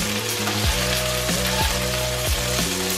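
Chicken thighs fry in an Always Pan with a loud, steady, dense sizzle that stays constant throughout.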